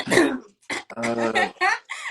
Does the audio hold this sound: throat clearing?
yes